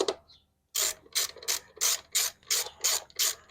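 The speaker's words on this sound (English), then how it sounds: "Go ahead and get it done by hand at first, then you can tighten it down." A ratchet tightening a bolt on a Pontiac G6 during an evap system repair, giving eight evenly spaced, loud, rasping clicks close by after a brief quiet start.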